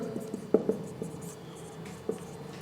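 A teacher writes on a classroom board, with faint intermittent scratches and taps of the marker or chalk in a quiet room.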